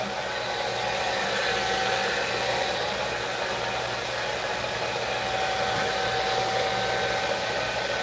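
A blow dryer styling hair runs alone as a loud, constant whirring roar with a steady hum, unbroken for the whole stretch.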